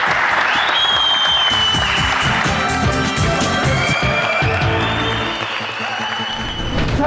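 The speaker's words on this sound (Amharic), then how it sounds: "አቶ ቴድሮስ ሞቅ ያለ ጭብጨባ" A quiz-show audience applauds loudly for the winning contestant, a full, sustained burst of clapping that runs throughout. Bright music tones play beneath it and the applause eases slightly toward the end.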